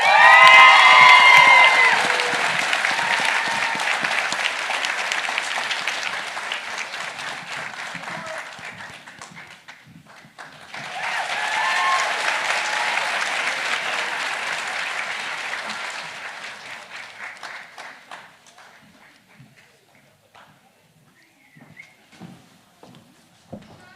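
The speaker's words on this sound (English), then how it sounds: "thank you all for clapping." Crowd applause and cheering at a nursing pinning ceremony, loud clapping with whoops that fades, swells again in a second wave, then thins to scattered claps.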